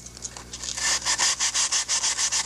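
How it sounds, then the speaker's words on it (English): Super glue is sanded off a plastic jet aircraft model with 320 wet sandpaper, heard as steady, close, rhythmic rasping strokes, about eight back-and-forth passes, each a loud hiss of abrasive on plastic. "Now we're going to come and sand that super glue off."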